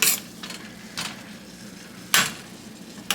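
A spoon or spatula scrapes and knocks against a pan while a whole stick of butter is stirred, making three or four distinct clattering strokes over a faint background hiss.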